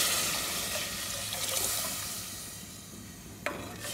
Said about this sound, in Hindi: मैं 1 जग पानी डाल रही हूँ।